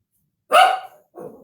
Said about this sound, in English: Well, there's my dog.